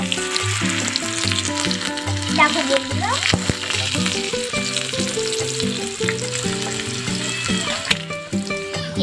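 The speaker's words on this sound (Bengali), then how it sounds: "এইভাবেই আমি সবগুলো ভেজে নেবো।" Potatoes cut as French fries crackle and sizzle in hot oil in a miniature pan, a continuous bubbling hiss under background music, with a voice briefly speaking.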